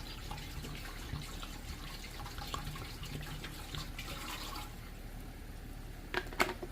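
Rust remover liquid pours steadily into a 5-gallon Harley-Davidson fuel tank, a continuous close splashing and trickling that runs throughout, with a few louder sloshes near the end.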